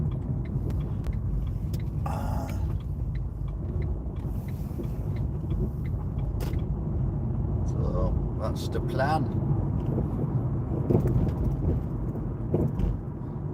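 Lorries rumble past on a road at night, a low, continuous heavy-engine drone heard from inside a moving vehicle, with people talking over it.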